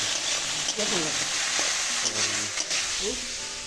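Potato curry frying in a pan for a morning meal, a loud, steady sizzle that fills the whole stretch, with faint voices mixed into the background.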